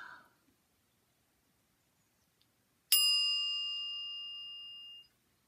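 A small metal bowl is struck once after a brief rustle, giving a clear, high ring that fades slowly over about two seconds.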